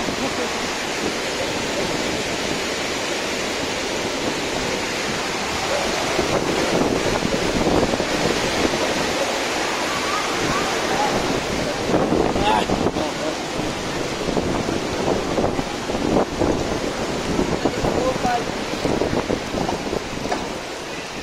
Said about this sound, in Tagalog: Yung tubig guys, yung apawa oh.